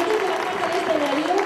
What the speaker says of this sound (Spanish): Vamos a despedir, lógicamente, a los integrantes del jurado con un fuerte aplauso a nuestro mago de honor del año 2009